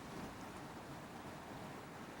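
Ocean waves wash along the Olympic Peninsula coast near the Hole in the Wall formation, a continuous, soft, broad roar of surf mixed with wind, distant and unbroken.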